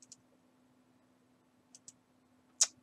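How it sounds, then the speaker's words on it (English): A computer mouse is clicked a few times, close and sharp: a quick double click at the start, another pair mid-way and a louder single click near the end, over a faint steady hum. "Just clicking around here to see if anything else shows up."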